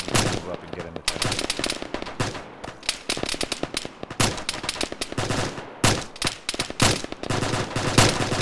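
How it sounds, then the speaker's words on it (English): Rifle fire from a squad of soldiers in the military shooter Arma during a ShackTac assault, dense overlapping bursts and single shots near and far with only brief pauses, and occasional voices beneath the shooting. "Keep firing, guys. Keep up the fire."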